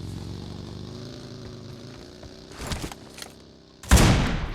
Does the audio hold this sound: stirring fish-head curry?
no